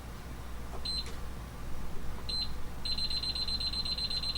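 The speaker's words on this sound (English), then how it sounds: "Trying to set my timer." A kitchen timer gives short, high electronic beeps as its buttons are pressed, first single chirps and then a longer run of rapid beeps, close and clear over a quiet room.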